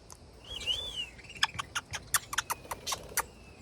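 Small parrots in a sanctuary aviary give a thin rising whistle followed by a rapid series of sharp, close chirps and clicks, fairly quiet overall with no one speaking.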